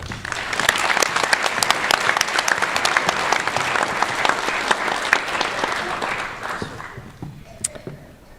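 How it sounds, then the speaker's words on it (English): Sustained audience applause at a school district online academy graduation ceremony, a dense wash of many hands clapping that fades toward the end. "Please help me give them all a round of applause"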